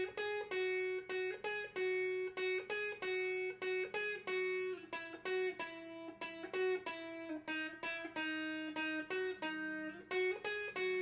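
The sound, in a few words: guitar playing chorus riff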